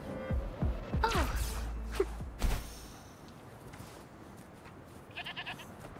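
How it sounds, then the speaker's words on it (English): A goat in a video game bleats a few times early on, brief wavering cries over a low hum and thuds, then fades to quiet game ambience with a faint chiming near the end. "It's a goat."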